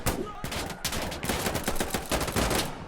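Rapid bursts of automatic and single-shot gunfire from the video game Insurgency Sandstorm crackle continuously and loudly at close range, with overlapping shots stacked in quick succession.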